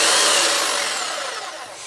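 An Einhell TC-JS80/1 jigsaw runs loud and close, a harsh continuous whine with a slowly falling pitch as the motor winds down, alone without talk.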